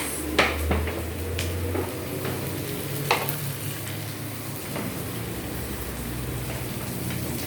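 Vegetables (bitter gourd and okra) frying in a pan give a steady, rain-like sizzle, punctuated by a few sharp scraping knocks as a utensil stirs them, close and without talk.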